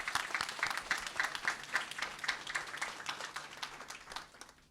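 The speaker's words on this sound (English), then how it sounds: "Let's give them all a round of applause." Audience applause for a group of county commissioners at a school academies announcement, a steady wash of many hands clapping that carries evenly for several seconds before tapering slightly.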